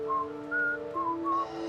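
A person whistles a tone-deaf, annoying tune in a quiet, seemingly empty place. Four short, clear whistled notes in an uneven melody sound alone and close, with no talk.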